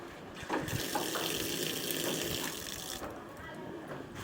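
An outdoor tap by a wash basin, set among paving stones, runs in a steady splashing stream that starts and stops abruptly after a few seconds; a faint voice may be present.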